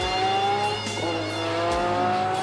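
Ferrari F50 accelerating hard on the Yatabe test course, a loud, steady engine note held close and continuous throughout, with a brief shift-like dip near the middle and no talk.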